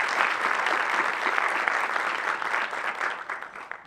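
Audience members at a casting forum honoring an actress give a short round of steady, dense applause that holds for a few seconds before thinning and fading toward the end.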